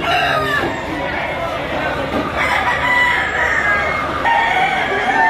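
Stag rooster crowing amid a crowded chicken auction market in Lipa, with crowing and clucking layered over constant background chatter and voices throughout.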